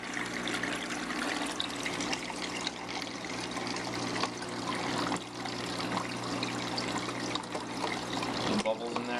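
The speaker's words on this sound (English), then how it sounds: "when the water gets to the 3D growth level, gets high, it starts flowing out of there" Water spilling steadily from the secondary outlet of a reef algae scrubber in an aquarium setup, a continuous close trickle and splash with bubbles, a voice faintly mixed in beneath it.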